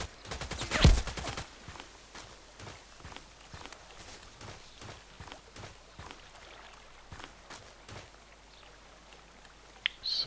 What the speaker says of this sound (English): So many snipers.